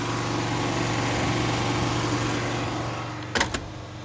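Generator engine running steadily nearby with a constant droning hum, brief clicks near the end, no talk.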